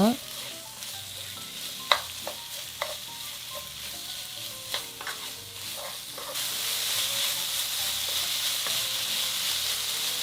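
Sliced beef and garlic stir-frying over medium-low heat in a pot, a soft sizzle punctuated by irregular spoon clacks and scrapes, swelling into a louder, steadier hiss toward the end, no talking.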